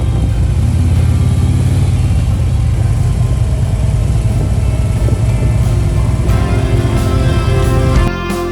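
A motorcycle engine runs steadily aboard a Puget Sound ferry to Clinton, Washington, a loud continuous mid-pitched drone with a deep low rumble that barely changes before easing slightly at the very end.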